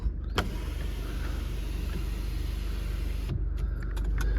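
An electric sunroof blind on a Jaguar XF 2.0d Portfolio glides along with a steady motor whine, running from a soft click at the start to a stop, inside the quiet car with some small clicks after.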